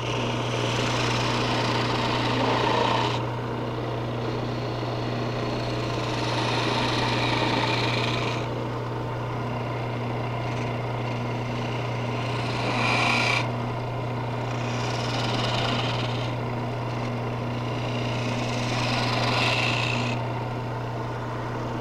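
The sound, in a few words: wood lathe turning a baluster with a small gouge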